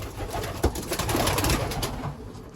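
Small racing pigeons coo at close range, with soft, low, repeated calls running over a dense, steady background of birds.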